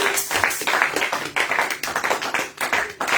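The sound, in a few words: audience applauding in church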